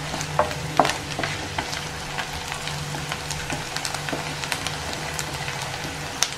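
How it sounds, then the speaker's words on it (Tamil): Ginger and garlic frying in a pan, a steady close sizzle with frequent light scraping and stirring clicks scattered throughout, no voices over it. "பாருங்க இஞ்சி பூண்டு இந்தலாம் வெந்துட்டு இருக்கு"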